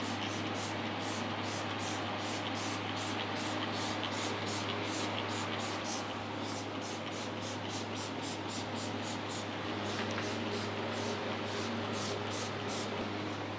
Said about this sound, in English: we're going to demonstrate the foaming cleaner